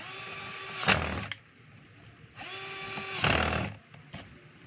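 Cordless power drill driving a screw back into a DeWalt D25811 jack hammer, two short whirring bursts separated by a pause, close and moderately loud with no talk.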